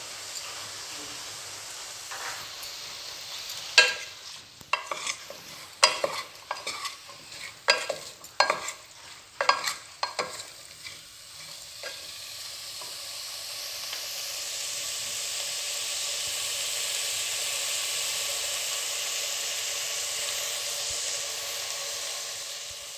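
Malabar spinach with cumin is stirred in a frying pan, a series of sharp scraping, clattering strokes over a gentle sizzle, then the stirring stops and a steady hissing fry carries on alone.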